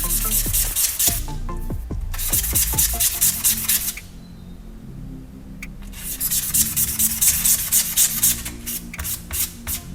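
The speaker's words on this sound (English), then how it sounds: "I'll sand down each blade one at a time" Thin razor blades are sanded by hand in bursts of quick, scratchy back-and-forth strokes, close and crisp, pausing midway before resuming rhythmic rubbing.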